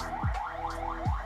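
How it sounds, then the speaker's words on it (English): A siren passing outside, its repeating rising-and-falling wail sweeping up and down several times over a steady background, fairly faint and distant, with no talk over it. "it wasn't an alarm. It was like an ambulance or a police siren."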